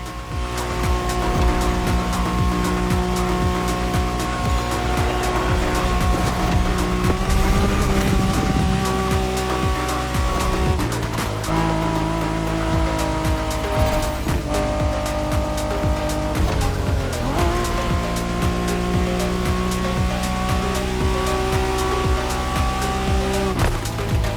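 A special Honda NSX race car in The Crew Motorfest drives hard, its engine screaming steadily through gear changes with tire squeal and whooshing passes, loud and close throughout.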